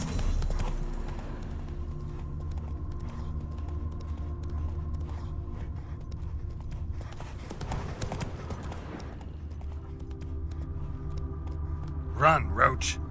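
Steady clip-clop of a horse's hooves trotting along in a video game (The Witcher 3), with a low rumble underneath and a brief voice toward the end.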